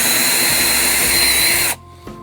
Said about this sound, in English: you could just continue to kind of drill holes right through the length here